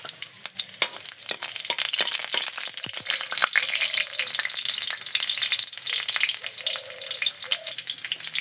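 Garlic cloves sizzle and crackle steadily in hot oil, with the frying dense and close throughout, broken by occasional sharp pops and a few scrapes of stirring in the pan.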